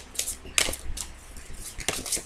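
Oracle cards being shuffled by hand during a card reading, with several quick papery slaps and riffles close by, a couple of the cards dropping out, and no voice.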